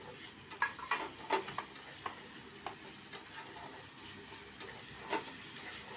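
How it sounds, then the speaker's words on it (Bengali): Onion frying with ginger, garlic and green chili paste for a chicken dish, a steady sizzle under irregular scrapes and clinks of a spatula stirring the pan, fairly close with no talking. "আর একটু লাল করে ভেজে নেব পেঁয়াজটা"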